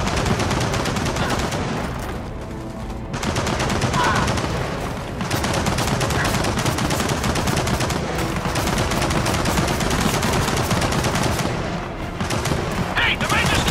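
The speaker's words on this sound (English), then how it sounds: "Machine gun nest!" Relentless machine gun nest fire in Gears of War 4, dense sustained automatic bursts close and loud with brief pauses, amid combat noise and shouting voices.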